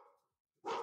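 A dog gives two short barks, one fading out at the start and a sharper, louder one after a brief silence, heard over a remote call.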